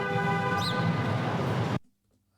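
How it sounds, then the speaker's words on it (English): Car horn honking sound effect from an editing library: busy traffic noise with sustained tonal horn blares, then an abrupt cut to near silence. "I'm going to take some honking."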